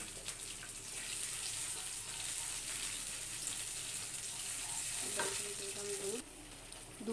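Milk poured into a pan of fried ginger, cumin and green chilli paste and stirred, a steady sizzle and bubbling hiss with faint scraping, continuous and moderately quiet.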